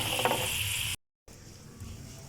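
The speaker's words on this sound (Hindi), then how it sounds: "ये आप देख सकते हैं कि इसमें लहसुन और अदरक जल रहे हैं।" Garlic and ginger frying in hair oil, a steady hiss of sizzling with faint stirring clicks, briefly cut off before the quieter sizzle resumes.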